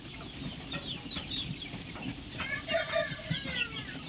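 Young two-month-old chicken clucking during vaccination, a few soft nearby clucks rising near the end over a steady low background hum and faint noise.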